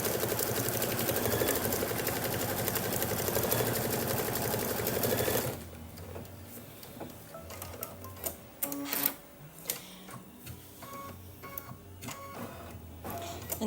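A sewing machine stitches a placement line for the circle on a Kimberbell mug rug, a steady close mechanical whirr that runs continuously for several seconds, then gives way to quieter clicks and intermittent stops.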